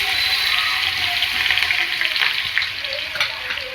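Thecha chili paste hitting a hot pan with bloomed cumin seeds for shepu and moong dal bhaji, a loud steady sizzle with light stirring scrapes, close up and continuous.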